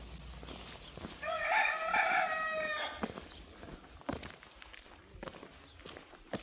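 A rooster crows loudly and nearby beside a chicken coop in a small village in Spain, one long drawn-out call, with crunching footsteps and rustling before and after.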